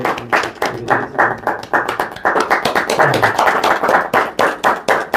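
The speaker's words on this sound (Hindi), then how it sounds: "clapping clapping" An audience at a trophy unveiling ceremony for a cricket super league season held in Kuwait claps steadily. Fairly close, the clapping keeps a rough rhythmic pulse that continues through the whole stretch with no talking.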